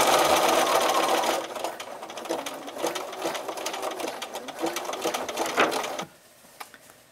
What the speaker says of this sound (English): you stitch to the side, turn it 90 degrees, and continue stitching